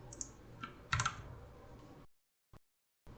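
Keys tapped on a computer keyboard while entering values into a Python program, a short burst of light clicks close up, followed by near silence with a couple of isolated taps.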